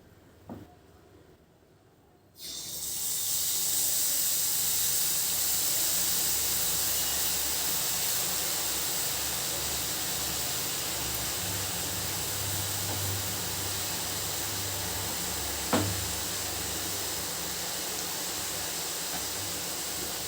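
After a quiet moment, boondi batter hits hot oil and erupts into a loud, steady, close sizzle that holds evenly to the end, with one brief knock partway through.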